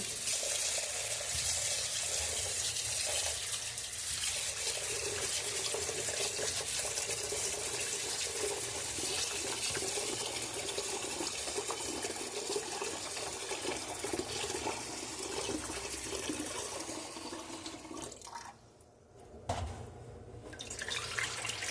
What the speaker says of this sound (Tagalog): So ngayon, kailangan natin hugasan ng mabuti.